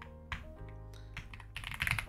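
Typing on a new computer keyboard, a short run of quiet key clicks that grows into a busier patter of taps near the end, close and faint, with no talk.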